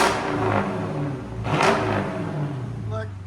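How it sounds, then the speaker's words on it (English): A Jeep Grand Cherokee's 5.7L HEMI V8 revs hard nearby, a loud, sustained roar that swells to a peak midway and then holds steady. "Raw HEMI power."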